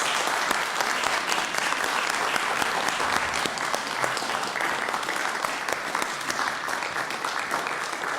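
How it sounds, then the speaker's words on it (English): A city council chamber audience in Bastrop, Texas applauds police officers, dense sustained clapping holding steady for several seconds with faint crowd murmur beneath. "Can we please give the police officers a round of applause?"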